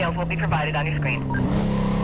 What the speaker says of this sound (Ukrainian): Мені здається, що звук мотора дуже голосний.